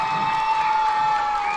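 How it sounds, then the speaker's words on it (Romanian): A crowd at the Moinești festival laureates' gala cheers and claps for the winners, a continuous mix of shouts, whoops and applause with a steady tone running through it. "Aplaudați-i, merită toate aplauzele dumneavoastră."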